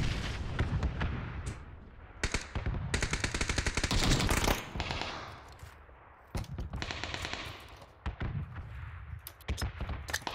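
Video game gunfire rattles in sustained automatic bursts with heavy booming shots and explosions, fairly loud and continuous for several seconds, then broken into shorter volleys.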